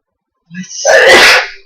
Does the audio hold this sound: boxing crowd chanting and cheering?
no